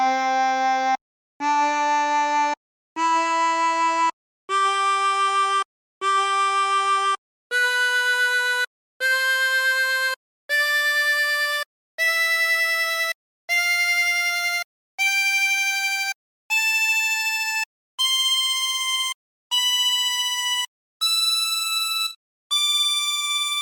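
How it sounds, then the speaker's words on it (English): A 20-hole tremolo harmonica is sounded hole by hole from 1 to 20, with separate reedy, wavering notes stepping upward and evenly spaced by short gaps, clear and close with no voices. "if you played them all in succession from hole number 1 through to 20, you would end up with something that sounds like this."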